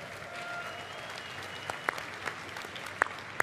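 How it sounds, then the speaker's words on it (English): Applause from the BlizzCon 2017 crowd at a Heroes of the Storm panel, faint and distant, a soft diffuse wash with a few sharper claps popping out near the end. "So give yourselves all a round of applause for all your fantastic feedback"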